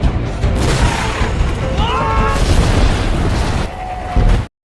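An RPG round hits a car, setting off a loud booming explosion that rumbles and rolls on for several seconds before a final burst and an abrupt cutoff.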